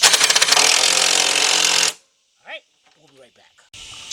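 A cordless impact wrench hammers a mount bolt tight in one loud, rapid rattling burst of about two seconds during timing chain work on a GM V6, followed by a quiet pause, a short voice and faint clinks.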